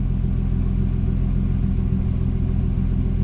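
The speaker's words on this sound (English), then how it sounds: "it is finally at a point that I can hop in it, go full throttle anywhere" A turbocharged M50 engine in a BMW E30 roars at full throttle, a loud, steady drone that holds without a break the whole way, with no voices.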